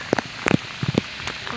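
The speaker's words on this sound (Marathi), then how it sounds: "पाऊस पण खूप जोरात पडतोय" During monsoon farm work, rain strikes nearby surfaces in scattered, sharp splats and taps, coming in small clusters over a soft, continuous wet background.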